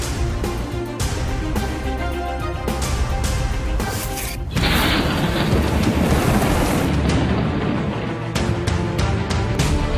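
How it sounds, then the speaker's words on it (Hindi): Heavy monsoon rain pours over the twin cities in Pakistan, with some 200 millimetres recorded. A loud, dense, continuous hiss and roar of downpour fills the scene, with a sudden surge in intensity partway through. "बारिश ने जुड़वा शहरों को पानी पानी कर दिया।"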